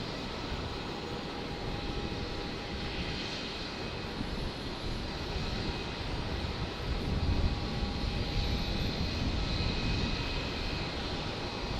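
A China Airlines Airbus A350 jet at Brisbane Airport, a steady broad engine roar heard from a distance that swells slightly midway, with no talking.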